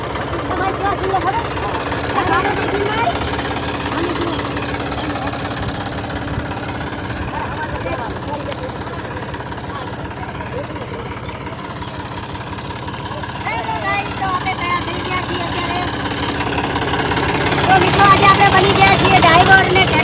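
A diesel tractor engine chugs and idles steadily up close, with people talking over it and the engine growing louder near the end.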